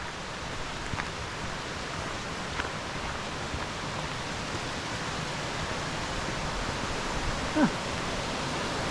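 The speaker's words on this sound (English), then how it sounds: "Some more cascades." Water cascades down a Lakeland beck near Haweswater in the Mardale Valley, a steady, even rush of falling water that fills the whole stretch without a break and with no voices.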